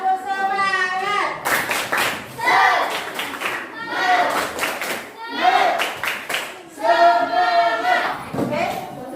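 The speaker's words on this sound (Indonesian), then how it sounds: "Tepuk semangat." Children in a classroom clap together in a rhythmic chant pattern, with sharp bursts of claps mixed with their shouted, sung chanting voices.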